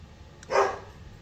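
A single short bark from a pet dog indoors, close and fairly loud, standing alone over a quiet room background.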